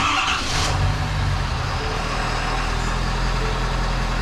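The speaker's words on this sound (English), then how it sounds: "All right, we're gonna try to fire it up." A Ford Super Duty diesel engine runs at a steady idle after being fired up following an oil and fuel filter change, a loud, continuous low rumble with a brief higher rush near the start.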